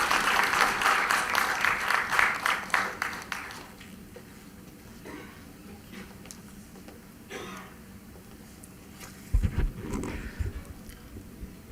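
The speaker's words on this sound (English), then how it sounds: "A big round of applause once again for Mr." Applause from an audience at an HR conclave at an engineering school greets an expert speaker invited onto the stage: dense, loud clapping for a few seconds that thins out and fades, leaving a quiet room with a brief thump near the end.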